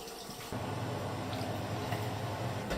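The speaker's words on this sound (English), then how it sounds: "And I add the water." Water pours into a pot of Catalan monkfish stew, a faint steady splashing rush that starts abruptly and continues quietly to the end.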